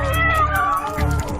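A cat meows on a video playing from a computer, with several short cries over a low steady hum, fairly loud and close.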